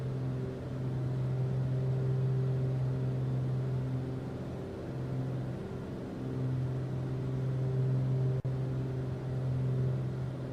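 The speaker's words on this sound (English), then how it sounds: "Sounded like my engines were doing something a little funny." Piston engines of a Duke BE60 twin aircraft in Microsoft Flight Simulator 2024, a steady droning hum with strong low tonal harmonics, slightly wavering in pitch, continuous and close with no talk.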